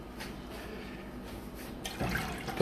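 Water runs into a pot for boiling rice, a close, steady gushing pour that grows louder and splashier toward the end.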